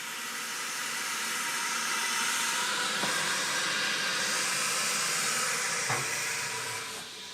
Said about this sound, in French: je vais placer la cloche à l'intérieur d'une marmite qui va l'imprégner de vapeur d'eau